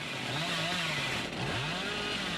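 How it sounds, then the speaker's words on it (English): Chainsaw revving in the horror video game Dead by Daylight, a continuous buzzing engine drone with wavering pitch that dips briefly midway, loud and alone. "Now MarLin with the chainsaw, Whispers turns on"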